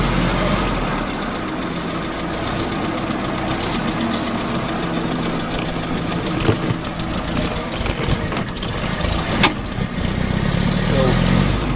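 A 1924 Bullnose Morris Cowley's engine runs, still a little cold, in a steady, close, loud idling rumble with a few small knocks and clatters near the end.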